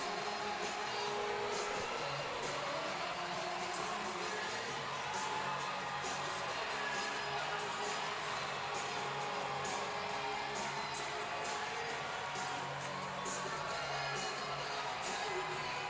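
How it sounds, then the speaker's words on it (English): Hockey arena crowd in Binghamton cheering after a power-play goal that makes it 9-0 against the Dashers, a steady, broad roar of voices with whoops and shouts that holds loud throughout without fading. "Crowd's loving it, having a good time here in Binghamton."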